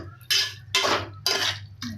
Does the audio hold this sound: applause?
no